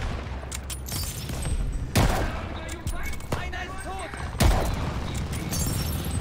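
Call of Duty Vanguard gunfire comes as sharp single shots and scattered volleys, some close and heavy, some farther off, over a busy battle din, with a voice talking throughout.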